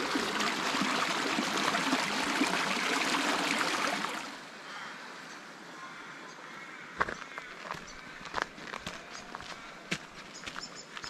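A river in the Cape Otway area of Australia's Great Ocean Road rushes loudly and steadily at first, then drops to a quieter trickle with scattered footsteps and crunches nearby.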